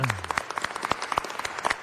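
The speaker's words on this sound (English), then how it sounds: "Give her a round of applause." Audience applause at a Los Angeles city council meeting, a fairly short burst of many hands clapping at moderate level in a large room, with a brief voice tone at the very start.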